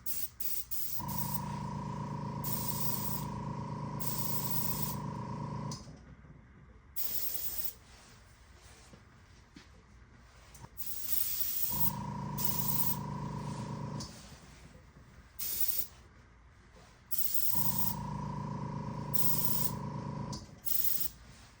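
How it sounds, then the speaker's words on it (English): Airbrush spraying brown hair enhancement colour, three long hissing bursts of about five seconds each with a steady compressor hum underneath, separated by quieter pauses, close and fairly loud. "Put just a little bit in the airbrush."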